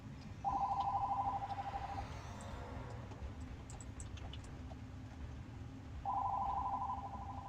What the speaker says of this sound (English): Of course, that was the phone ring,